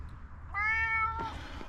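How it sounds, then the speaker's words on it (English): A cat meows once in a long, clear, drawn-out call that fades into a shorter trailing note, heard close by against a low background rumble outdoors in Oregon, with no one talking. "This cat here likes following me everywhere."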